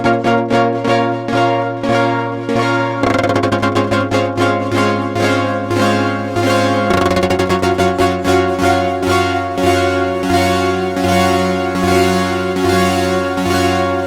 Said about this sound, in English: Synth Keep is an LFO modulated synth and goes like this.